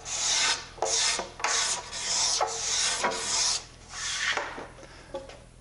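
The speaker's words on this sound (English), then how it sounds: "I scrape them off rather than sand them off, because the sandpaper just drives the glue down into the pores of the wood" Putty knife scraping leftover glue off a wooden door jamb made of pallet wood: a series of close, rasping strokes repeating every second or so, steady and fairly loud, with no talking.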